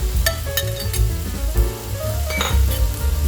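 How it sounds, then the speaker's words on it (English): Spice mixture hitting rice vermicelli in a hot pan, giving a loud, continuous close sizzle with a few bright utensil clinks against the pan. "Pour the spices mixture over the rice vermicelli. The spices dance and swirl in the pan"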